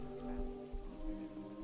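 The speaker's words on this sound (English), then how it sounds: "It's raining. Maybe that's why it's closing." Steady rain falls in the fantasy video game Oblivion, a continuous soft patter mixed with a low sustained musical drone, with no talking.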